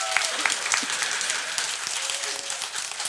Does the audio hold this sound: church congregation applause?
yes